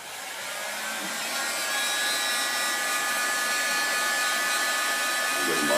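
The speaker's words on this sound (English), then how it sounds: "I'll just give it a quick little rump with the heat gun a moment and dry it off." A heat gun drying paint on a walking stick, giving a steady close breathy blowing hiss that holds even and slowly grows a little louder throughout, with no talk over it.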